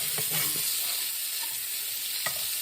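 Polish sausage sears in a hot pan with a dense, steady sizzle and crackle, close and continuous, with a few louder pops and no talking.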